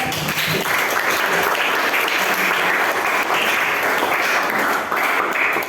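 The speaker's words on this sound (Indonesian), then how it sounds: "Tepuk tangan untuk kelompok 3." A classroom applauds a student group after its presentation, dense loud clapping from many hands filling the room in a continuous burst.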